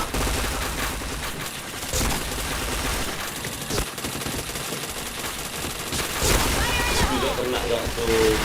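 Rapid gunfire in a video game shooter crackles in dense bursts over game sounds, with voices talking over the action throughout.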